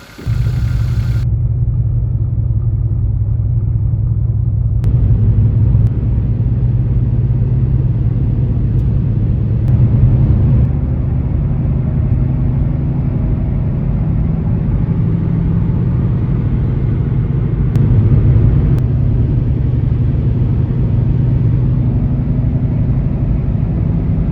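A car engine runs steadily for about 24 seconds during a test drive after a stalling fault was fixed, giving a loud, continuous low rumble with slight surges and no talking.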